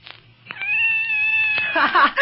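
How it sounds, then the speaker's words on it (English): A cat meows in one drawn-out, rising-and-falling call, close and fairly loud, in a radio-drama scene behind a door, with a brief tail of further cries. "It's a cat."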